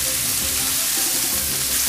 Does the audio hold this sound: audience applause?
no